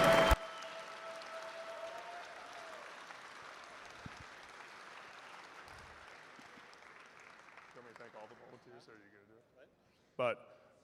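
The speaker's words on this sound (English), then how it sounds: "let's have a huge round of applause for Mickey for making this happen this year." A crowd at a swordfighting tournament finals gives a round of applause that starts with a sharp burst, then fades to a thinning patter with voices and cheers mixed in.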